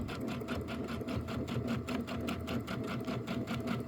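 A sewing machine stitching in the ditch along a quilt seam, running at a steady rapid rhythmic chatter throughout, close and even, with no talk.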